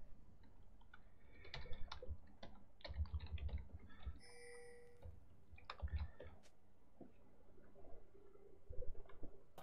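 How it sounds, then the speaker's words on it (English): Rapid, furious clicking of a computer keyboard during a League of Legends game, coming in bursts with a short chiming tone midway and low game rumble beneath. "Furious typing followed by deleting everything."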